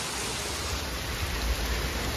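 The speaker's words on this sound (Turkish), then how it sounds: "Yağmur durmaz dostlar." Heavy rain pours down steadily on a street in India, a dense, unbroken hiss of water close by with no letup.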